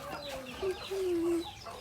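Hens and week-old chicks on a farm cluck and peep close by, a few short calls and one longer drawn-out cluck, with no one speaking.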